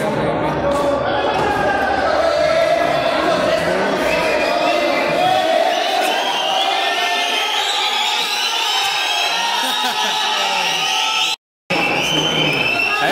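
Spectators applauding and cheering at a frontón pelota match: a sustained, loud wash of crowd noise that stays steady, with a commentator talking over it and a brief dropout near the end.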